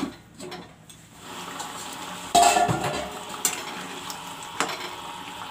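Potatoes cook in a pot for a rohu fish curry, giving a steady soft sizzle with a few sharp clinks and knocks of a lid or utensil against the pot.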